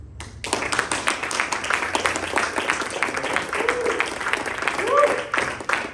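A church congregation applauds with a dense stretch of many hands clapping at once, steady and moderately loud for several seconds, with a few voices rising faintly near the end.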